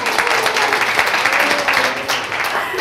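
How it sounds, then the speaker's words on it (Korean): Audience applause at a Korean self-coaching lecture, steady dense clapping filling the short stretch alone, fairly loud and close. "예, 박수 한번 쳐주세요."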